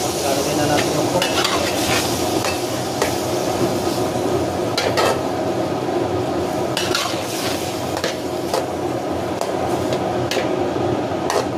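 Pork hitting a hot pan for monggo with tomato and garlic, a loud steady sizzle and fry with repeated scraping and stirring clinks of a utensil against the pan.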